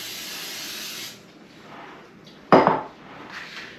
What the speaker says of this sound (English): we're going to spray it so it comes out easy